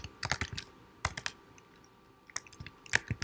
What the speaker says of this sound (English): So sorry about the typing.